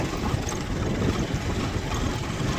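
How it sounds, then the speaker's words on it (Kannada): A motorbike ridden along a wide road beside new railway line construction, its engine a continuous rough drone blended with strong wind rush at a steady, close level. "ನಾನು ಬೈಕ್ ಹೊಡ್ಕೊಂಡು ಸುಮ್ಮನೆ ಹೋಗ್ತಾ ಇದ್ದೀನಿ ಇದ್ರ ಮೇಲೆ"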